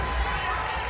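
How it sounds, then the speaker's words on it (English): A basketball crowd roars steadily in a gym during a Dilworth Glyndon Felton versus Barnesville section quarterfinal game, urging the defense on, under a commentator's talk. "You can hear this DGF crowd getting into it now"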